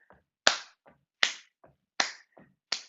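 Four sharp, loud hand claps at an even pace during a step-and-clap rhythm exercise, each with a quick ring-off, separated by softer scuffing steps in between.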